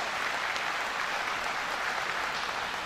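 A church congregation applauds in one dense, steady wash of many hands clapping at once. The sound is sustained and even for its short length, with no break and no talk over it.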